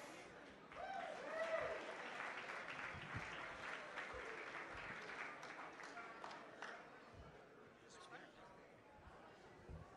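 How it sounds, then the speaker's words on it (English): An audience at the Cicada Club applauds to welcome a singer, with warm sustained clapping that swells early and then tapers, mixed with chatter and a voice speaking over it. "ladies and gentlemen, how about a big round of applause for that lovely Hollywood songbird"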